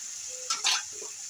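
Whole fish cooked with hand-mixed spices is stirred in a pan, giving a soft continuous sizzle of frying with a couple of brief louder scraping stirs.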